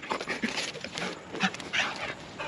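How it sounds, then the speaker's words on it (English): An energetic farm dog making excited whimpers, yips and panting sounds close by, in short bursts over a couple of seconds. "you crazy dog"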